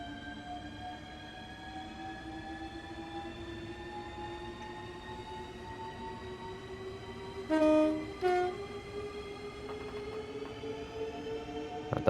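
Traction motors of a Class 395 Javelin electric train in Train Sim World 2 on the East Coastway toward Brighton, a steady rising whine with layered tones at speed, briefly swelled by a louder two-part horn-like burst midway.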